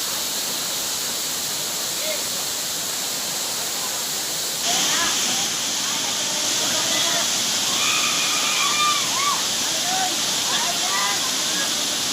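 Steady broadband rush of the Batrepalli waterfall, with water splashing and sloshing nearby, a constant hiss that grows slightly louder partway through, with scattered faint chirps and voices in the background.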